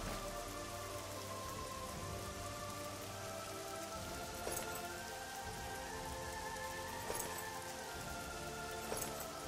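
Steady rain in an Oblivion video game scene patters on surfaces, a dense continuous hiss with occasional heavier drips, no voices.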